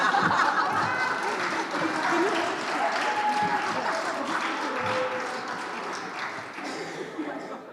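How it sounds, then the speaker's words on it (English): A crowd applauds continuously in a room, steady dense clapping mixed with some chuckles and chatter, gradually tapering off. "I expect a big applause."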